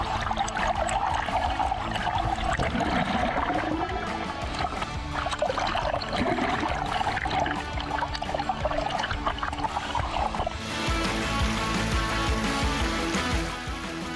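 Fast-flowing river water rushing over rocks in an Indonesian stream, a steady broadband wash that continues throughout without pause, loud and close, with no talk.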